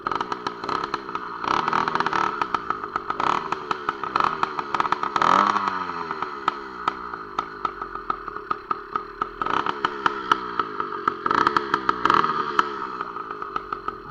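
Motorized bicycle engine running close by, a rattling two-stroke putter that revs up and drops back repeatedly in uneven bursts, with no talking.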